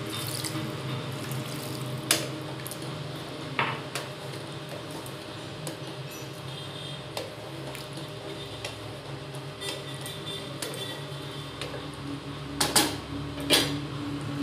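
Water pours steadily into a cooking pan of kucho chingri and ol (shrimp with elephant foot yam) curry, a soft continuous wash with faint ticks and small splashes over quiet kitchen background, no voices.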